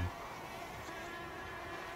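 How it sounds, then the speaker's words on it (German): Swarms of mosquitoes hum from bushes across a ravine in a dramatized outdoor scene, a dense, steady buzzing drone with no one speaking. "Ganze Wolken von Mücken soten in den Büschen auf der anderen Seite der Schlucht. Sie surrten und heulten."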